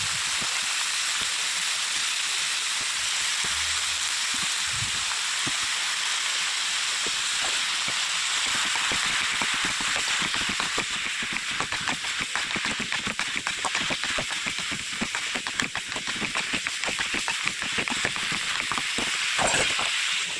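Brinjal (eggplant) pieces fry in a pan with onions and green chillies, giving a steady close hiss and sizzle that builds into dense crackling spatters.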